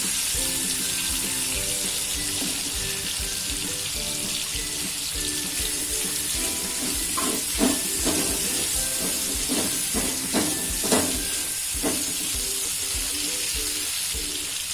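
Green tomatoes and chillies sizzle in a pan while cooking a Gujarati sambharo, giving a steady hissing fry with a few clinks and stirring sounds partway through.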